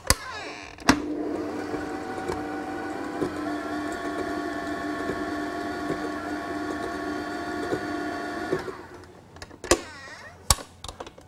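An electric hand mixer beats banana brownie batter with a steady, loud whirring drone for several seconds, then cuts off and is followed by a few sharp clatters and knocks.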